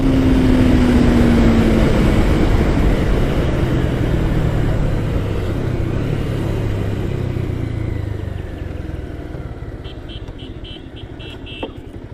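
A 2010 Bajaj Pulsar 150 motorcycle held flat out near its top speed, a steady loud roar of engine and rushing wind that eases off and drops in pitch toward the end, with a faint high whine trailing at the close.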